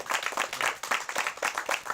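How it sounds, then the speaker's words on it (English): Audience applause at a talk-show-style interview event, steady dense clapping from a crowd filling the whole moment, fairly distant and even. "Round of applause."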